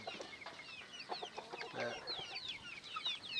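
Rhode Island Red chickens clucking in a coop, a steady mix of overlapping clucks and chirpy calls from several birds close by, with no talk.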